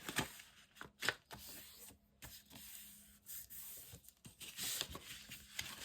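Sheets of scrapbook paper being folded by hand for a one-page pocket folio: close, intermittent crinkles, rubs and sharp creasing swipes that come in short bursts, with no talking.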